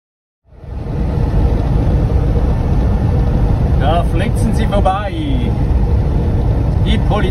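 A camper van drives through the Rub al Khali desert in Saudi Arabia, its engine and road noise starting up and then holding a loud steady rumble, with people talking briefly over it midway.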